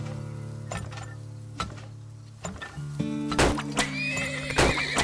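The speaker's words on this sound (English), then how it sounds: "Horses here." Horses in the oil-drilling tycoon game Turmoil neigh and whinny in a few sharp, close calls with clip-clop and ticking game sounds around them, and no one talks.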